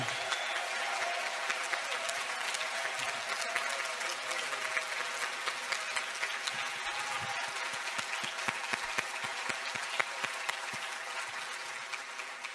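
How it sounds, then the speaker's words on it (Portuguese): An audience at a literary festival talk breaks into sustained applause for the technical team, a dense, even wash of many hands clapping that holds steady without letting up. "pedir, por favor, que todos aplaudam a equipe técnica e todos aqueles que estão envolvidos aqui"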